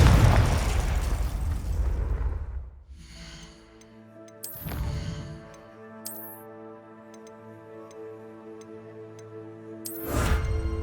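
In Hogwarts Legacy, the Confringo blasting spell sets off a broad explosion that fades into ringing magical tones. Sharp bursts and ticking chimes follow, and a further blast arrives near the end.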